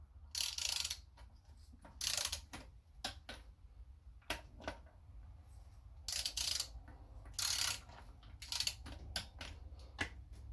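A torque wrench clicks and ratchets while tightening bolts on a 1998–2002 Honda Accord transmission, giving sharp, close bursts of ratcheting in an irregular sequence with short pauses between them.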